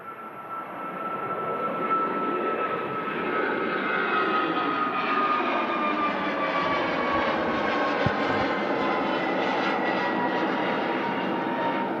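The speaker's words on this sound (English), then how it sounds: "That EasyJet catching a little bit of an updraft there from the hump at Manchester, and making the decision to go around and come back for another go." An EasyJet airliner going around at Manchester Airport, the jet engine roar building over the first couple of seconds and then holding loud and steady, with a rising whine as the engines spool up for the climb.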